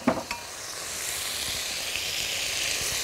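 Chicken pieces hit sesame oil in a very hot wok, erupting into a loud, steady sizzle and hiss that holds for several seconds, with a couple of brief clatters at the start.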